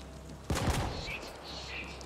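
A short, loud burst of rapid gunfire in the video game The Ascent, followed by fading game effects and background tones.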